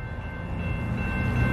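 An eastbound CN mixed freight train with four engines, led by CN 8947 at Battle Creek, Michigan, rumbles loudly and steadily nearby, its horn sounding a sustained tone over the engine noise, with the roar building toward the end.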